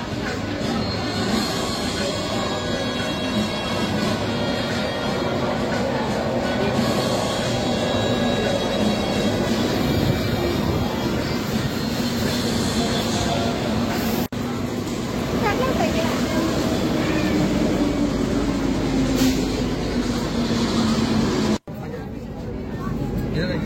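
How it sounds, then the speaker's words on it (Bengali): A Kolkata metro train running from Esplanade toward Dum Dum gives a continuous low rumble with a rising and falling whine, under nearby talking and carriage noise, then cuts off abruptly near the end. "আমাদের দমদমে যাওয়ার ট্রেন খুব তাড়াতাড়ি চলে এলো।"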